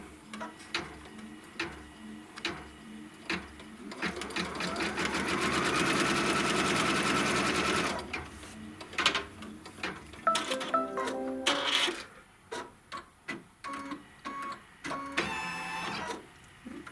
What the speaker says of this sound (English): Put the hoop back on, and it's going to stitch the seam line.